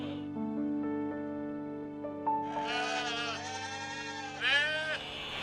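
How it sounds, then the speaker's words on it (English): Sheep living at the bottom of a hill near an old fortification mound in the English countryside bleat in long, wavering calls, several in a row, under a steady tonal hum. "Some sheep living down at the bottom."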